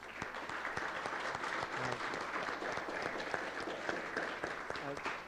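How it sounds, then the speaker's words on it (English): Applause for commission staff at an Arizona redistricting commission public hearing, a steady wash of clapping from a room of people, fairly faint and distant with faint voices under it. "I do want to give them a round of applause"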